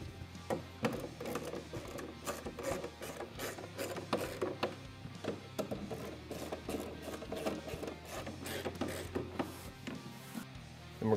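A ratchet wrench cranks down bolts on a cargo box bracket for a Yamaha Wolverine RMAX 1000, giving a steady run of close, rapid clicks and mechanical rattles with no voices.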